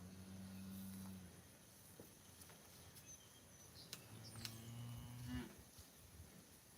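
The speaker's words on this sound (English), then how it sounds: "You can really hear the cows now." Cows moo in two long, low calls, the first faint and brief, the second louder and drawn out near the end, heard outdoors over quiet rural background with faint insects.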